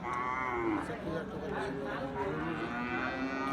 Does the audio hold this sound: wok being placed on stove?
no